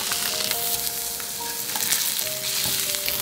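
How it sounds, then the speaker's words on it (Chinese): Bluefin tuna sizzles and fries steadily in a hot oiled pan seasoned with sea salt and black pepper, a dense continuous crackle with a few brief utensil clinks, close and fairly loud with no talking. "鱼给它下锅煎一下"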